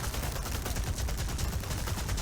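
Rifle fire in the Resident Evil 4 Remake video game, headshots on an enemy, lands as loud, dense gunshot blasts packed tightly together over a couple of seconds.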